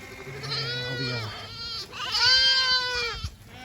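St Croix sheep bleat repeatedly on a farm, two or three loud, close, wavering calls overlapping one another as the flock is herded along.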